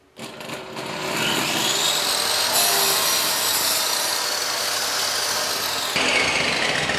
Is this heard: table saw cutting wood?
yes